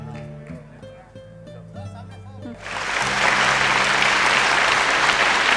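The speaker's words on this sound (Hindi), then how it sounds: "एक बार जोरदार ताली हो जाए" A voice speaks briefly over stage music at a Bhojpuri cinema awards show, then loud, sustained applause from a large audience takes over and continues to the end.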